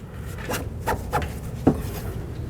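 A 2009-13 Mazda 3 steering knuckle is tapped onto its strut in a few short, sharp metallic knocks, close and fairly quiet, spaced irregularly over a couple of seconds.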